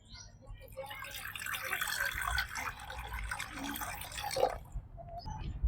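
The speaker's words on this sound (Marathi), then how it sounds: "कढई मस्त गरम झाली त्याच्यात एक गिलास पाणी टाकून घेऊ" Water splashes and pours into a hot wok, with a hissing, bubbling wash of sound and a short crackle near the end; no voices.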